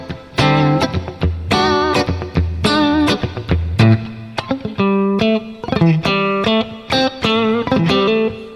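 Electric guitar played through the THU v2 amp simulator with a fluid impulse response: a sequence of distorted, sustained chords and notes, each struck cleanly and ringing out loud, with short gaps between the phrases.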